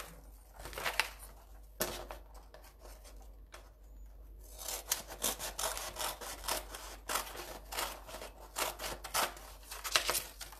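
Scissors cutting out paper pieces for a mixed media wall art project, a quiet run of short snipping and rustling strokes in irregular bursts, close by with no talk.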